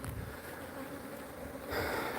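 Honey bees in a hive box make a dense continuous buzzing drone, close and steady, swelling slightly near the end.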